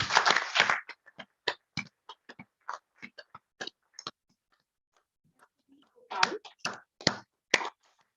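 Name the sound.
applause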